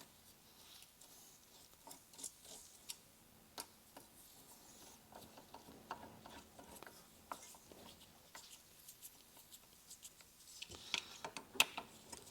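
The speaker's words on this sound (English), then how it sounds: "Got one on this magnetic tip screwdriver already." A magnetic-tip screwdriver drives screws into a bracket during a Jeep Wrangler JL or Gladiator JT audio installation, giving faint, scattered small clicks and ticks in a quiet room that grow slightly busier near the end.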